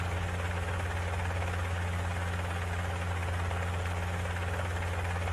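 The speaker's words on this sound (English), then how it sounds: "Helicopter staying high above the grapevines." Helicopter hovering high above grapevines at a cycling road race, Tour Down Under stage, a steady loud droning rotor and engine hum with a strong low throb throughout, no voices.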